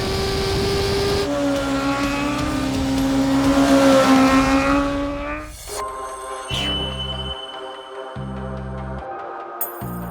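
A Suzuki GSX-R1000 superbike screams around a racetrack, its engine revs climbing steadily for several seconds before cutting off abruptly, followed by quieter rhythmic sounds.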